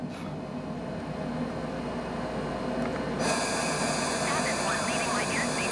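Steady engine roar of an aircraft climbing after takeoff in Flight Simulator, a continuous broadband drone that brightens and grows slightly louder partway through, with a faint voice underneath.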